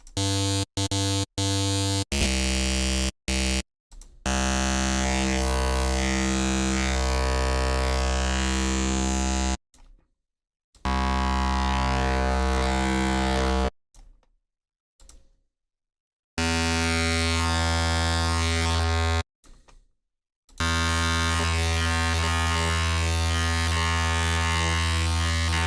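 A buzzy synthesizer tone built from spark wavetables in Pigments, sustained and harmonically dense, cutting in and out in short bursts and longer held notes separated by abrupt silences, loud and alone.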